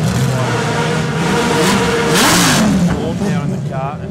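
A racing car in an Australian production car race pulls away from pit lane, its engine revving and climbing through the gears, loud and close, with a commentator talking over it.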